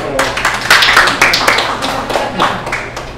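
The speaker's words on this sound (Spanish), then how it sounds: "Un aplauso para vos." An audience at a Colombian film event breaks into close, lively applause, dense overlapping claps rising loudly and then easing slightly over a few seconds, with faint crowd voices mixed in.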